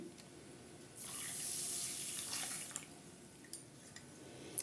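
Running water streams from a tap into a basin of lentils being washed for several seconds, with splashing and a few sharper drips and swishes near the end.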